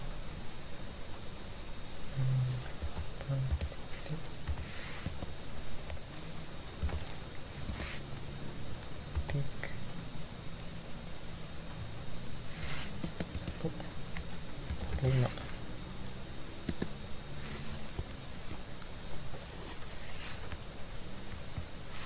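Computer keyboard keys tapped while entering an IP address during MikroTik router access setup, scattered clicks in short bursts beneath steady talk and background hiss.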